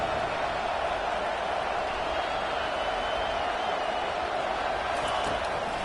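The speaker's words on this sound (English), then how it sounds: "if you didn't know this was a big play, the crowd is telling you." A college football stadium crowd roars loudly and continuously after a big third-down play, a broad sustained cheer filling the whole stretch with no clear talk over it.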